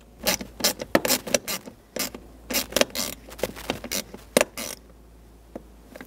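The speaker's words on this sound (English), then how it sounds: "at the front, don't forget to put in this 7mm screw again" Ratchet snugging a 7mm screw while installing a seat switch in a 2007-2014 Chevrolet Silverado 2500HD, bursts of rapid clicking pawl strokes in quick irregular runs, close and fairly loud, then falling quiet.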